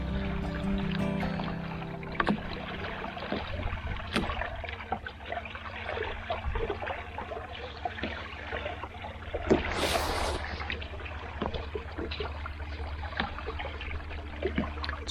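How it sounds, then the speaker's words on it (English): Soft rippling and trickling of calm water lapping against the leeboard of a sailing canoe on a still evening off Scotland's west coast, a gentle continuous patter with occasional light knocks, quiet and close. "All I can hear is the ripple of the water on the leeboard."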